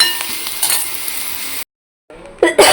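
A spoon stirs spices into a wet cashew curry in a pan, making soft scraping and clinking sounds over a faint sizzle, with a brief silent gap before louder stirring strokes resume.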